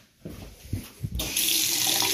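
Water from a tap in a house: a few knocks and handling sounds, then the faucet opens into a loud, steady, close rushing stream.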